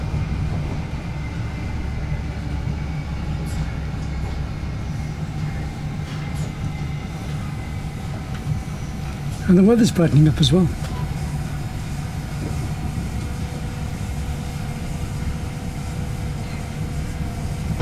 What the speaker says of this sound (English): So that's my Great Western train, the one I've just got off.